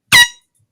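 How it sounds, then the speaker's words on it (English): A single sharp, loud blast from a marine air horn, brassy and piercing, cut off after a fraction of a second, followed by silence. "But this is like a marine air horn."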